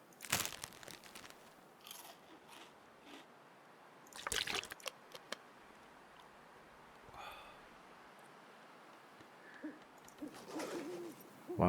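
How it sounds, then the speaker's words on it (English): Owl hooting at night in The Long Dark survival game, faint calls sounding a few times over quiet ambient wind, with crunching footsteps or chewing noises at the start and around the four-second mark. "You can hear the owl."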